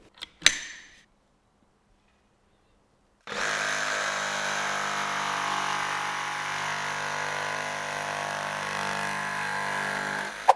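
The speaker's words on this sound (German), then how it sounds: "ein Stichsägeblatt, mit dem du bis an den Rand sägen kannst" After a couple of sharp clicks and a pause, a jigsaw with a flush-cutting blade starts and runs steadily with a buzzing, even cutting drone, close by.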